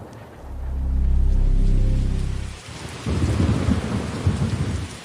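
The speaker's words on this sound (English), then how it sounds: "A terrible hurricane is brewing." A violent thunderstorm as a hurricane brews: a long, loud rolling thunder rumble swells and fades, then heavy rain pours down steadily and close, with no talking.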